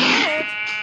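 A single short sheep bleat from Minecraft Pocket Edition, loud and close, fading quickly.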